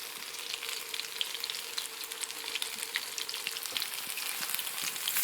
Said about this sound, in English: We want the heat of the ghee to seal the cauliflower completely.